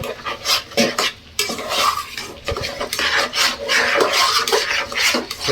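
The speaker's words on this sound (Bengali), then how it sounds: "এবার দিয়ে দিব এর ভিতরে সেই পানি দিয়ে রাখা চালটা। এভাবে ভালো করে নেড়ে নিতে হবে।" A spoon works soaked rice around a pot for pulao, making repeated scraping, rasping strokes with occasional metallic clinks against the pot, close up and uneven in rhythm.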